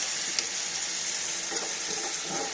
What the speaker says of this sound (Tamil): ஒரு கால் டம்ளர் தண்ணி ஊற்றி வேக வைக்கிறோம்